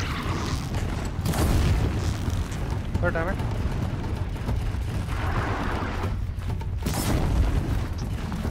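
Explosions in the video game Horizon Zero Dawn: a loud, broad boom near the start and a second sharp blast later, over steady rumbling game ambience with a voice present.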